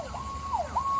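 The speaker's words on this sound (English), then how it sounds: "There's a siren" A wailing siren rises and falls in pitch, sounding fairly close and steady with faint traffic rumble underneath.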